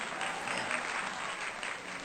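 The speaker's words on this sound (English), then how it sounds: "Cue applause. Let's cue applause." Applause sound effect cued during a read-aloud of a dark fantasy novel: a steady wash of crowd clapping that holds evenly from start to finish, moderately loud with no talking over it.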